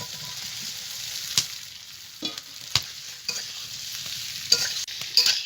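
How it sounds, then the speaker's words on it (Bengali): Fried potatoes being stirred with spice masala in a pan, a soft steady sizzle punctuated by several sharp scrapes and clinks of a spatula at irregular intervals, no talking. "মশলার সঙ্গে আলুটা আমি ভালো করে কষিয়ে নিয়েছি"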